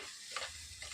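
Fish pieces coated with turmeric powder are stirred in a pan, giving a short, quiet scrape with a faint sizzle underneath.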